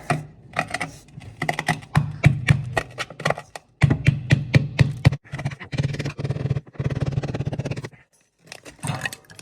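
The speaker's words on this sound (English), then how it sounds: "So I'm actually going to chisel that back a bit." Hammer and chisel chipping at awkward 10mm radiator pipework, a rapid series of sharp close metallic taps in uneven bursts with brief pauses, ending in a short silence.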